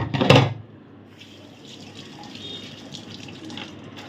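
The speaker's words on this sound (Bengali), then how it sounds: "দাঁড়াও আমি হাতটা ধুয়ে নিই।" Hands being washed under a running kitchen tap after mashing soybean bharta: a brief knock, then a steady, close rush of water flowing for several seconds.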